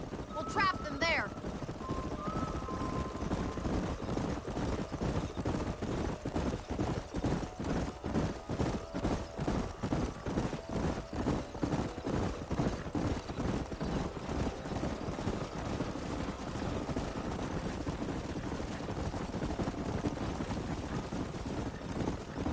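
Horses gallop at a steady, rapid clip-clop through a canyon in the video game Red Dead Redemption. The hoofbeats go on without a break, a continuous wind-like rush runs beneath them, and brief voices are heard near the start.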